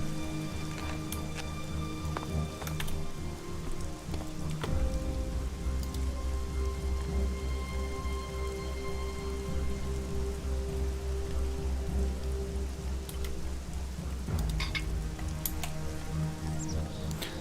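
Steady rain patters on surfaces in the fantasy open-world game ELEX, a dense continuous hiss with low rumbling under it and no voices.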